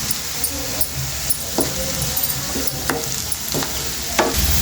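Onions with chopped green chillies and a pinch of turmeric fry in a pan for an egg fry, making a continuous loud sizzle broken by repeated stirring scrapes every half second or so.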